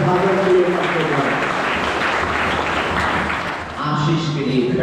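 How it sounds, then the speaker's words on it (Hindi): Church congregation applauding at St. Thomas Catholic Church, a dense, steady wash of clapping that sustains for several seconds, dips briefly near the end, then swells again, with faint voices mixed in. "ताली मारिए दोनों भाइयों के लिए।"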